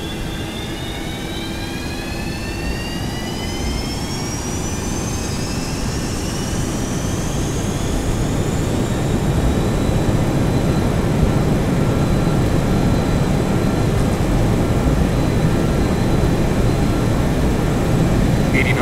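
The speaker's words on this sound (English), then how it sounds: "Alright, ready to hear those engines whine? Here we go." FlyJSim 732 jet engines in X-Plane 11 spool up on the runway, a loud rising whine climbing in pitch over a deep steady roar that swells and holds for the full stretch.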